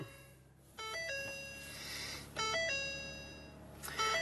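Startup chime of a 2020 Ford F-150 Lariat Special Edition 4x4, three quiet bursts of bright electronic tones, each a short rising run of stepped notes with ringing harmonics, spaced evenly over a few seconds with no voices.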